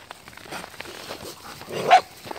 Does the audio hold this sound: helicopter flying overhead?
no